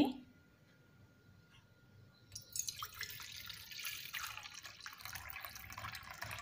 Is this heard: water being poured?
yes